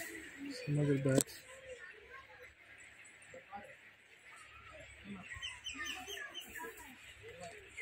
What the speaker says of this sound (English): Here we have some other birds.